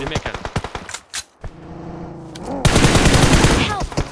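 Gunfire from the PUBG Mobile battle royale game comes as rapid, loud automatic bursts with a sustained stretch of continuous fire, close and dense, with voices talking over the action.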